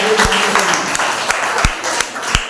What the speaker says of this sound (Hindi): एक जोरदार तालियां माताओं के लिए।